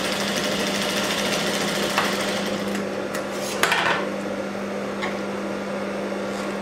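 A sewing machine stitches blouse fabric with a steady, loud mechanical whir and hum that runs throughout, broken by a few faint clicks and one brief sharper knock midway.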